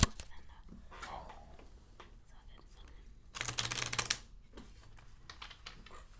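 A deck of cards is shuffled and flipped by hand in a quiet ASMR setting, giving soft scattered flicks and one denser riffling burst, with low whispered talk around it.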